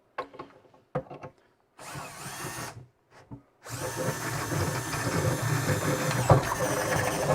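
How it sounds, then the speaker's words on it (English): A cordless drill with a 6mm bit whirs in short bursts, then runs steadily as the bit bores through wood, loud and close with brief pauses between. "I'm going to drill a hole through those"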